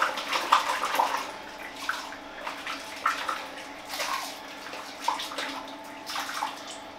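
Water splashes and swishes in bursts as a shaving brush is rinsed out in a bathroom basin, a series of close, uneven sloshes with brief pauses between them.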